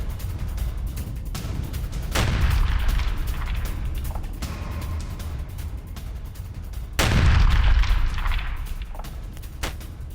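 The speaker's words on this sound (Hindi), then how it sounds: "रूसी टैंक में कैसे हुआ जोरदार धमाका" Explosions from an attack on a Russian tank convoy in the Russia-Ukraine war, heavy booms and rumbling blasts erupting over continuous loud crackling noise, with two big hits standing out.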